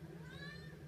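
A cat meows in the video game X-Men: Children of the Atom, a short, faint, tonal mew with a rising-falling pitch, brief and alone.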